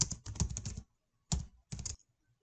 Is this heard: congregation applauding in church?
no